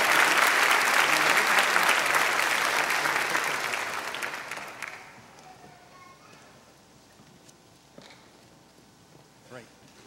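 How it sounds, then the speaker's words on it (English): An audience at a 2015 winter graduation ceremony claps loudly and steadily for about five seconds, then the applause quickly fades to scattered claps and quiet room noise. "Let's give him a big round of applause."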